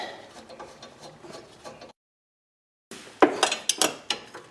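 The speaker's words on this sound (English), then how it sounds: "I'm using a long wrench for leverage, but you can use a socket on this as well." A long wrench works on 13 mm caliper bracket bolts on the rear brakes of a 2003 Chevrolet Impala: metallic clinks and ratcheting clicks, a short silent gap, then sharper close clanks of metal.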